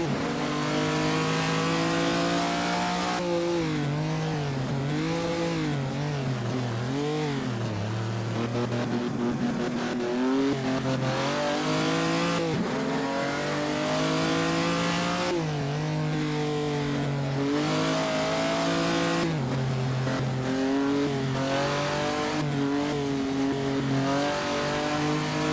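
A vintage post-war race car at the 1948 Gran Premio di Napoli in Assetto Corsa, its engine loud and close, repeatedly revving up through the gears and dropping back as the throttle opens and closes.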